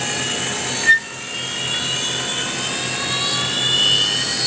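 A Brown & Sharpe 1440U universal grinder's internal ID spindle spins up after a brief click, settling into a steady high-pitched whine with a constant broadband hiss, close and continuous with no talking.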